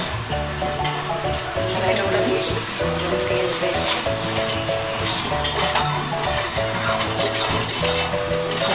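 Prawns sizzle in a pan as they are stirred, a steady crackling hiss running under tuneful background music.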